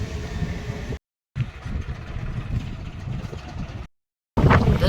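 A Honda Activa scooter engine drones steadily while riding along the coast at Diu and Daman, with wind rush mixed in. The sound cuts out twice and comes back louder at the end.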